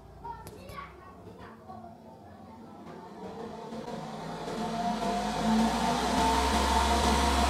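A homemade room air cooler built around a computer fan spins up from a slow start to high speed, its steady whooshing hum swelling like a jet engine and growing louder and brighter over several seconds, with children's voices faintly in the background.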